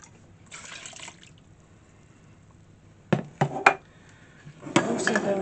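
Filtered water poured into a measuring cup in a home kitchen, with a brief splash early on, a few sharp knocks and clinks, then a fuller gush of pouring near the end, close and without talking.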